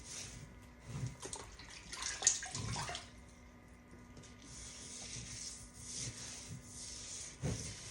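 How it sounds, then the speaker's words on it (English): A cloth wipes and scrubs over a plant pot being sanitized during repotting, giving soft, uneven rubbing strokes with brief louder swipes, close and fairly quiet. "So here I am sanitizing the pot, just wiping it down, just giving it a little quick wipe down."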